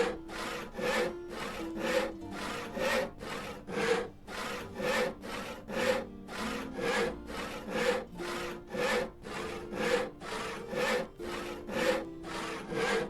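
Repetitive sawing of wood as planks are crafted in a video game, a steady back-and-forth rasping stroke repeating about twice a second, loud and close with no talk.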